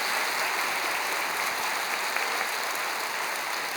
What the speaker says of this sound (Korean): 큰 박수로 환영하시죠.